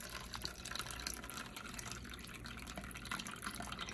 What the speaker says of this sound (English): I'm gonna pretend this is my camp pot and I'm just gonna try straining out my gnocchi.